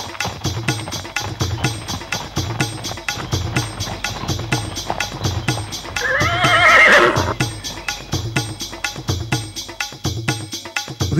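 Horses' hooves clip-clop in a steady, even rhythm along a path, with a single loud neigh rising midway, close and clear throughout.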